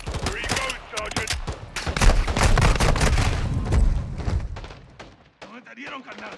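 A rapid burst of close gunfire and thudding impacts fills a Call of Duty: Modern Warfare II battle, dense shots at first that thin out toward the end, with voices shouting over the fighting.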